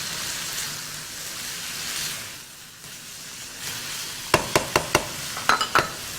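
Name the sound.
stirring garlic ginger paste into frying minced meat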